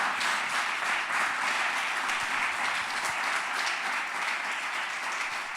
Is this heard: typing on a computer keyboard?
no